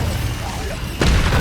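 A Confringo spell in the video game Hogwarts Legacy bursts with a sudden heavy boom partway through, over a continuous rumble of game sound and nearby talking.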